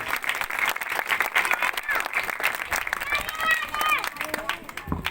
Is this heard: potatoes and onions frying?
no